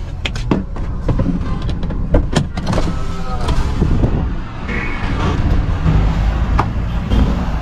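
Someone gets out of a parked car in a parking space: a door clunks, followed by scattered knocks, shuffles and rustles over a steady low outdoor rumble.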